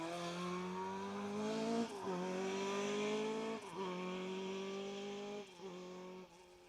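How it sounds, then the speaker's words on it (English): A Mark II Ford Escort rally car on a stage of the Mull Rally roars close by, its engine note rising through gear changes with brief lifts between shifts, loud and alone with no talk. "It is indeed car 34, Billy Beard in the Mark II Escort."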